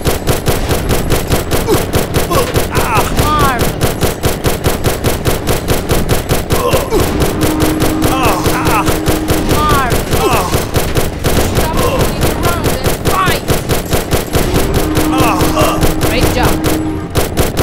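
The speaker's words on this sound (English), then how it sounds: "Tommy gun." A Tommy gun rattles in the 2009 PC game Steam Slug, set at a train depot, its rapid shots firing in long, loud, continuous bursts over steady game sounds.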